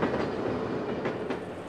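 Freight train rolling along a railway, a steady close rumble with rhythmic wheel clatter throughout, no voices.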